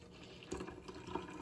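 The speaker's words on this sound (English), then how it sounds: "let's just pour that right into our glass" Strained cantaloupe juice pours into a glass with a soft, faint trickle and a couple of gentle splashes over a brief moment.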